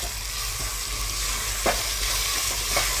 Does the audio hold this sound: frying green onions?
yes